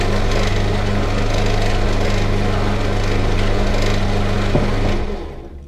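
A wood lathe spinning a softwood blank at about 1000 RPM, a loud steady motor whine with a scraping cutting texture that drops away at the end as the tool lifts.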